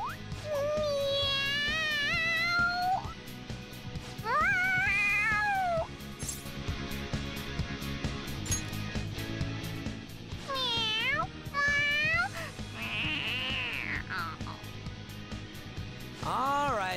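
A cat in the video game Persona 5 Royal meows excitedly, giving a string of loud, drawn-out, rising and falling calls in several bursts over a steady game background.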